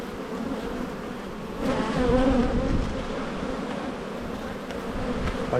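Honey bees drone steadily around an open backyard hive in Australia, a dense, even buzz that swells slightly partway through, with no voices.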